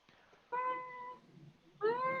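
A cartoon cat in a video game meows twice, each call loud and close with a rising, drawn-out tone, separated by a short quiet gap.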